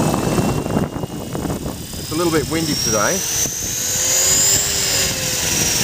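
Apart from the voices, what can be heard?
RC helicopter Mini Cylon spooling up in governor mode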